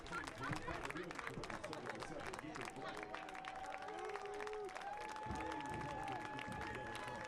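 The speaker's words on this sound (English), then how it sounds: "A well-deserved round of applause for Nico Brown, who started the scoring tonight." Spectators at a Lexington SC versus Union Omaha soccer match clap in a continuous patter under a general stadium murmur. A few sustained tones sound in the background.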